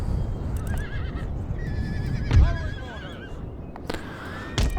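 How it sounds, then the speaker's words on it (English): Several horses whinny and neigh in the video game Empire: Total War over a low rumbling din of battle and hooves, the calls rising and falling at moderate distance. "Got my big beastie dragoon horse guards there."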